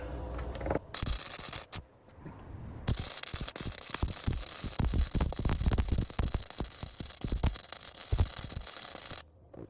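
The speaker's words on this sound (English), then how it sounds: "we're just gonna weld it on there, just tack it up for now" Tack welding a muffler flange onto the exhaust pipe of a BMW 535i, a steady loud crackling, hissing arc lasting several seconds, close up, with brief pauses at the start and end.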